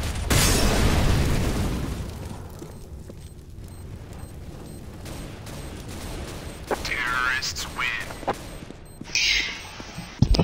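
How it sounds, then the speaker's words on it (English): A grenade explodes in a shooter video game: a loud boom at the start fades into rumbling, followed by scattered gunfire pops and voices talking. "I'm throwing a grenade!"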